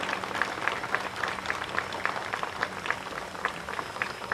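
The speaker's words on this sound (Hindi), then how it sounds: "जोरदार तालियों से सुनील राणे जी का आप अभिनंदन करिए" Applause from a crowd at an event at a sports complex with a skating rink in Borivali, Mumbai, heard as steady clapping that settles into a regular rhythmic beat, set against a faint steady tone and a busy hall background.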